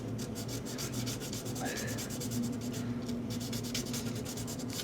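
A guitar fretboard is sanded by hand with 320-grit sandpaper, producing close, steady back-and-forth rubbing strokes in a quick, even rhythm.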